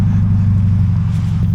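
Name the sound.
Toyota GT86 with catback exhaust revving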